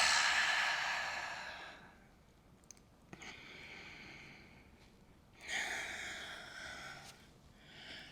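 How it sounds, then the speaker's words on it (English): Deep, slow breaths during a yoga session between sides of a pose, two long exhalations with a soft sigh-like quality, close and quiet, with no talking. "Deep breath in between sides."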